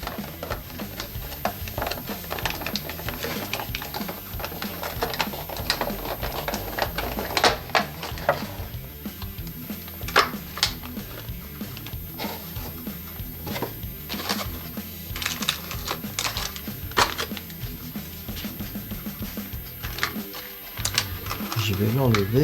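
Skeletor and Trap Jaw toy packaging being opened: continuous crinkling, tearing and rustling of plastic and cardboard, close and busy throughout, with someone speaking French over parts of it.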